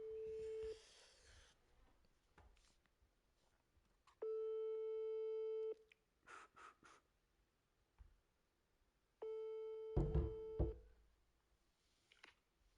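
Telephone call ringing out with a French ring-back tone: long steady tone bursts separated by silence, about three rings, with brief clicks and small bumps of noise between them.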